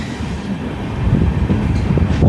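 Onboard the Uttarbanga Express in new LHB coaches, a loud close rumble of wheels and carriage runs slowly and steadily, with no one talking.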